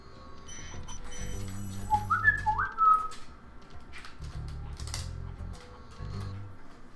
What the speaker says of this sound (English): Now my dogs are looking at me because I whistled to them.